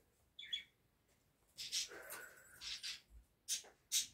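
Small bird chirping outdoors, a few short, bright calls spread across a few seconds, fairly faint and heard without talk.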